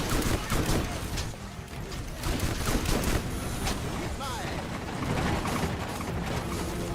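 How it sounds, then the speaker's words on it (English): Missiles launch and blast in a Borderlands gunfight, a dense, continuous barrage of loud firing and explosions with crackling debris and whooshing projectiles throughout. "Oh, nice missiles."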